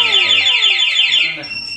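A motorcycle anti-theft alarm whoops loudly in repeated rising sweeps, a piercing warbling tone that shifts to a steadier pattern near the end.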